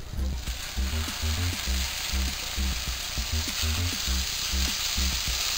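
Pork frying in butter in a pan, with a steady loud sizzle running the whole time and repeated low thumps and scrapes from the cooking underneath.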